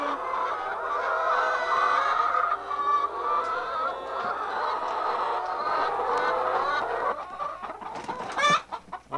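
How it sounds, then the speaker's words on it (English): Chickens clucking and squawking on a farm, a busy continuous chorus of hens close by, turning into sharper flapping squawks toward the end. "Peter, that better leave that chicken alone."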